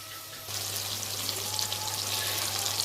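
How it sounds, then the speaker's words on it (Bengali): Mutton sautéing in a pan, a quiet start that swells into a loud, dense, steady sizzle heard up close, with no voices. "ভালোভাবে কষানো হচ্ছে"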